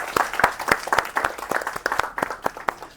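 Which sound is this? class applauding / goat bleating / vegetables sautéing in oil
class applauding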